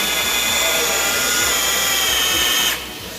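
A power drill grinds steadily through the metal of a naval cannon under restoration in a metal fabrication shop, loud and close, with a high whine that drops off near the end.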